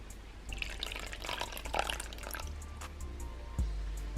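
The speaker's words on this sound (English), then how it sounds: "So I'll grab my beaker full of water and let's pour it in." Water poured from a beaker into a tarantula's enclosure, a steady splashing trickle that runs for a few seconds, then gives way to a low, dull rumble near the end.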